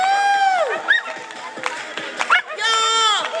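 A crowd at a club dog sports final night competition cheers and claps, with excited whistles, shouts and barking-like bursts mixed into loud, lively babble and chatter close by.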